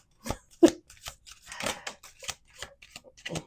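Quick riffling and snapping of cards being shuffled, a series of short papery bursts and taps at close range.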